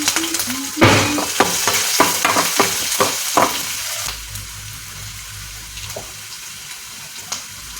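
Chopped onion dropped into hot oil in a kadhai and stirred, a burst of sizzling followed by a run of sharp scraping stirs close up, then settling into a quieter steady fry with no talk.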